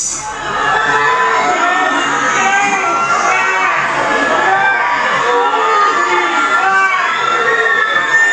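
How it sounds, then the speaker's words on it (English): A protest crowd shouts and chants in a steady, dense wall of many voices, loud and continuous with rising and falling cries throughout. "crowd turns on police, and the chants get louder."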